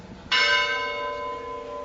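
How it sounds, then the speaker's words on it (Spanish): A single loud strike of a church bell in a tower in Teruel rings out close by, its bright metallic tone sustaining and slowly fading with long humming overtones. "Estás al lado de una campana, claro. Estamos al lado de varias campanas."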